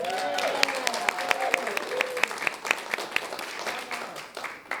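Applause from a gathered audience for a singer, scattered claps with a voice heard underneath, fairly even in loudness for the whole stretch.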